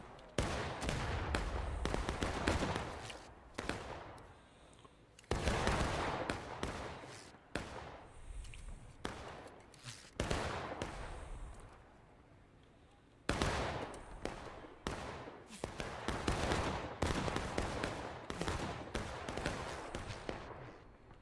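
Sustained bursts of game gunfire fill a team battle against defenders holding a flag and cannons, loud, dense volleys with brief gaps, a quieter lull in the middle, then heavy firing again.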